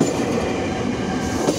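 An ex-Tokyo Metro 6000-series KRL electric commuter train bound for Jakarta Kota rumbles past a level crossing near Depok station, a loud, close, steady roar of wheels on rails with faint clatter.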